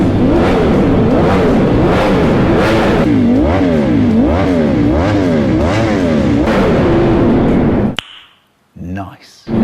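A motorcycle revs hard inside a tunnel, its engine note rising and falling in repeated loud surges that echo off the walls for several seconds, then cuts to near silence with a brief faint return.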